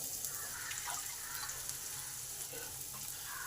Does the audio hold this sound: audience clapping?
no